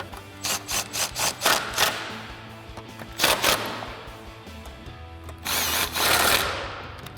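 A 3/8 impact gun with a 10mm socket tightening bolts while fitting headlights on a Jeep Wrangler JL, heard as several short close rattling bursts, a pause, a couple more bursts, then a longer final burst.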